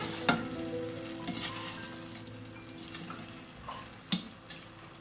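Chicken and masala fry in a pan with a soft steady sizzle, broken by a few brief clinks and stirring scrapes, fairly quiet and close with no voices.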